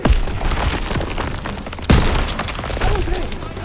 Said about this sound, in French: Les coups de feu!